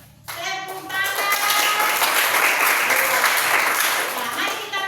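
Schoolchildren in a classroom clap their hands together in a lively, steady burst lasting several seconds, fairly close and moderately loud, with some shuffling and voices mixed in.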